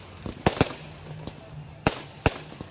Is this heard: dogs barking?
no